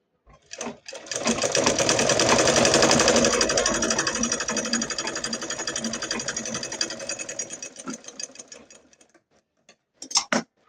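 A sewing machine stitches a salwar in one long, loud, close run of rapid mechanical chatter lasting about eight seconds. Brief starts and stops come just before and after the run.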